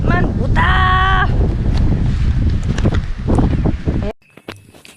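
Strong wind gusts across an open field and buffets the microphone in a heavy, close rumble, with a brief bleat-like tone near the start and muffled voices, before the roar drops off abruptly near the end.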